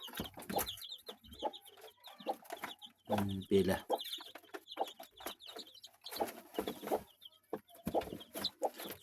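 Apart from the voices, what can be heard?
hen clucking with newly hatched chicks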